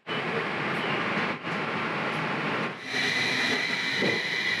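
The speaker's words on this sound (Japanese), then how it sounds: "新庄行きの列車が出発したようです" A train on the Ou Main Line bound for Shinjo rumbles and hisses loudly and steadily close by as it pulls away from a station in Akita, Japan, with a brief dip in the noise partway through.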